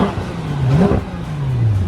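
A cheap VW Beetle engine revs at a drag strip, its close, loud drone climbing and falling in smooth pitch sweeps over about two seconds with no talking.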